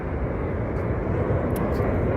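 Fixed-wing airplane passing overhead at night around 2:38 a.m., a steady broad engine drone that holds constant and fairly loud throughout, with no voices.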